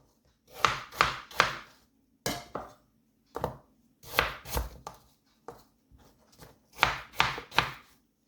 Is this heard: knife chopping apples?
yes